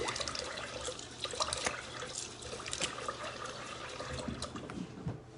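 Water runs from a tap into a sink as a face is washed during a nighttime skincare routine, a steady broadband splash with irregular louder splashes of hands in the stream, fairly close and continuous.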